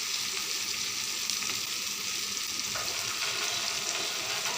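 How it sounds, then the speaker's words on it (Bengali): Onions fry in a pan for a fish curry, a steady close sizzle with light stirring scrapes, continuous and moderately loud with no talk. "পেঁয়াজ ভাজা হয়ে গেছে"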